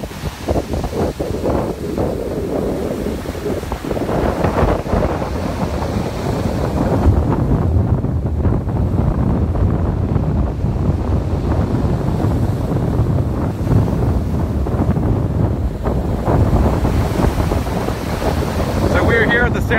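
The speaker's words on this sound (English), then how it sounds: "The waves are pretty big here for Cape Cod Bay." Large waves breaking on Town Neck Beach in Sandwich on Cape Cod Bay, an eroding shore under Tropical Storm Jose, keep up a loud, steady surf roar with heavy wind buffeting the microphone.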